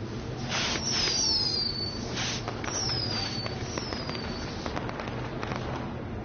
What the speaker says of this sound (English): Are those fireworks?